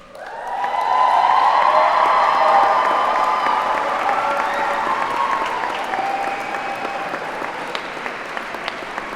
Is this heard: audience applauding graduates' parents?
yes